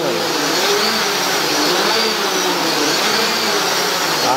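A light aircraft taxiing on the ground, steered by rudder alone with the throttle held steady, its engine droning loud and close in an unbroken, even roar.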